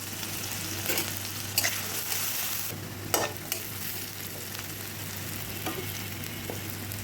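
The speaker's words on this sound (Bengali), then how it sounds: "আমি সরিষার তেল দিয়ে ডুমুর ভাজি করব" Onion, green chili and garlic cloves fry in mustard oil for a fig bhaji, a steady close sizzle with occasional light clicks of a spatula and a faint low hum underneath.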